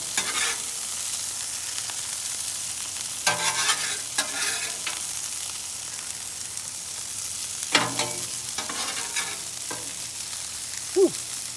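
Bacon and onions fry on a Blackstone griddle with a steady, close sizzle and crackle, broken by a few scraping spatula strokes.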